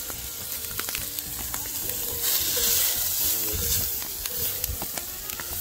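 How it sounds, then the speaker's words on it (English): Beef stew sizzles and fries in a pot over an outdoor campfire at a tent and RV camp, a steady close hiss with stirring scrapes and a louder burst of frying noise midway. "It's cooking over the fire."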